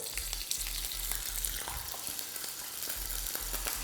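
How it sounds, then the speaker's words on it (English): Salmon skin fries in hot oil with a constant crackling sizzle and scattered sharp pops, close and fairly quiet, with a low steady hum beneath and no voices. "So rather than throwing it away, we're gonna put it in the oil."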